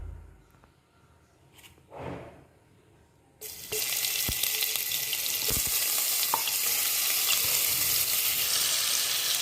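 Crushed shallots and garlic hit hot coconut oil in a pan for a ray fish curry, a quiet lead-in giving way to a loud, steady, bright sizzle that continues without talk.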